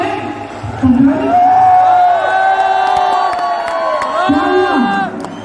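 A crowd at a motivational speech event shouts and cheers in a loud, rising roar with whoops and sustained yelling voices, close and energetic, with little distinct clapping audible.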